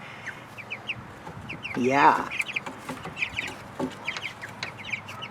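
Chickens cluck and chatter in a busy flock nearby, with one louder squawk in the middle; a voice speaks briefly.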